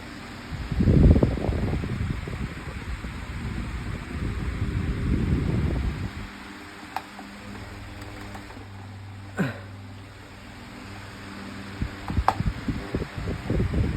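An 18-year-old Summer Rite (Midea) 16-inch five-blade pedestal fan runs with oscillation switched on. Its close, breathy airflow rushes loudly in swelling waves, then settles into a softer steady whir with a few small clicks.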